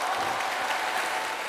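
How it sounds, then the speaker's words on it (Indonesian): An audience at an Indonesian parliamentary talk show claps steadily, a dense, even wash of applause lasting the whole moment with no voices over it. "Jadi kita mesti kasih tepuk tangan untuk Mutia sebetulnya."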